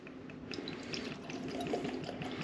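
Slipknot No 9 small batch Iowa whiskey poured from the bottle into a glass, a steady, close trickling splash of liquid running for a couple of seconds.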